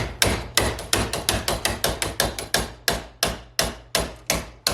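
A hammer strikes metal clamped in a large bench vise, bending it around a radius for an inner wheelhouse section. About twenty sharp, evenly spaced blows ring out close and loud, with no talk over them.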